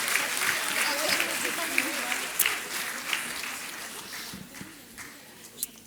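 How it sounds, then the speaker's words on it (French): Audience at a master's degree graduation ceremony applauding the graduates, steady dense clapping that slowly fades, with a voice speaking over it. "on peut continuer à les applaudir pendant ce temps de transition."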